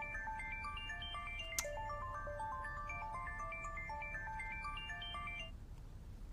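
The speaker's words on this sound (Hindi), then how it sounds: "इतनी रात में फोन?" Late at night, a melodic electronic phone ringtone plays a repeating pattern of bright tones for about five seconds, clear and steady, with no voices over it.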